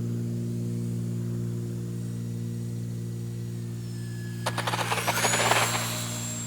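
XFly Twinliner twin 40mm EDF model airliner jet flying, its ducted-fan whine rising as it sweeps past fairly close over a steady low mains hum.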